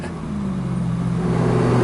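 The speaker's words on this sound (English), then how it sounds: "Just give it a little blip." A Ferrari 458 Speciale Aperta V8 gives a brief throttle blip, its engine note rising steadily and loud from close by, with no talking over it.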